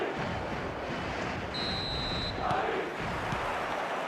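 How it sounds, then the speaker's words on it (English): Stadium crowd in the eFootball 2026 football video game on match day makes a dense, steady roar and buzz, with a brief whistle-like tone partway through, and no talk over it. "expectant buzz in the stadium and the players on the pitch are raring to go any minute now"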